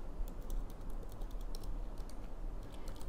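Code being typed on a computer keyboard, a quick, irregular run of soft, close key clicks over faint room hum, with no voice.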